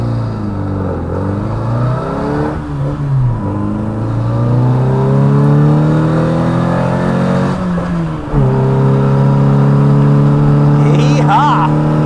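A 1968 Morris Mini Cooper S MKII with a close-ratio gearbox accelerates hard from inside the cabin, engine note climbing loudly through gears with a brief drop at each shift; a voice is heard over it.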